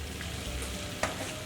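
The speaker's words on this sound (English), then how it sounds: "once your butter starts to foam and bubble like that" Butter melts and foams in a pan with a faint, steady crackling sizzle and one light clink partway through.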